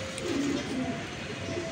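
A male racing pigeon coos softly and steadily, close by, in a continuous low murmuring call.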